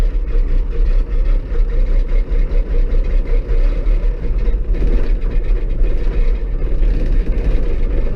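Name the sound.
cold bucket truck diesel engine idling after start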